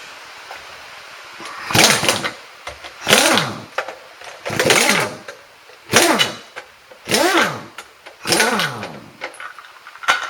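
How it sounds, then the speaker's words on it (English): An impact wrench removes lug nuts from a Chevrolet Silverado 4WD. About seven separate loud, rattling hammering bursts come close up, each lasting roughly a second, with short quiet gaps between them. "I'm using an impact wrench."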